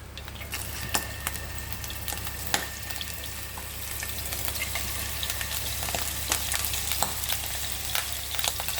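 Prawns hit hot coconut oil for prawn kizhi parotta, giving a steady, bright sizzling crackle with sharp pops and spatters throughout, fairly close, over a low constant hum and without talk.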